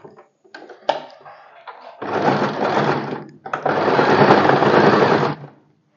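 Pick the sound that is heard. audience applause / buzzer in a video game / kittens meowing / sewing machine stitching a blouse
sewing machine stitching a blouse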